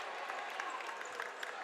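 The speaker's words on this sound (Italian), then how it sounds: "Applauso per il pubblico." Crowd applause at a football match between two teams, steady scattered clapping at a moderate distance, held briefly and fairly faint.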